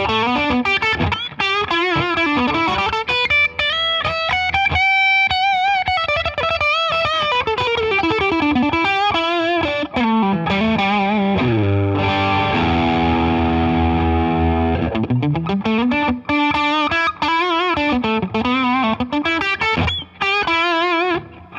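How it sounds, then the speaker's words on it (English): A Fender Vintera II 60s Thinline Telecaster on its bridge pickup runs through a Way Huge Super Lead overdrive pedal, playing a driven, gritty melodic phrase with sustained bends and chords, loud and alone. "let's hear the guitar with some overdrive"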